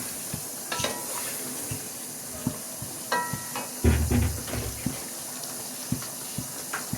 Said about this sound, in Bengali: আমি এটা নেড়ে দিচ্ছি